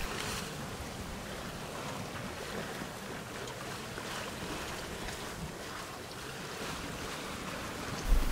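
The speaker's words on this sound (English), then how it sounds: "we were met by a stiff midday breeze funneling through the gate" Wind and water rush around a sailboat near the Golden Gate in a stiff midday breeze, a constant broadband roar of gusts buffeting the microphone over washing waves, with a brief louder thump at the very end.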